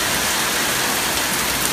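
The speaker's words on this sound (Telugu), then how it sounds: "చాలా భయంకరంగా కురుస్తుందండి." Hailstones pelting down amid a heavy evening rainstorm in Nazareth, a dense, steady hiss of close, loud downpour with no pauses across the short stretch.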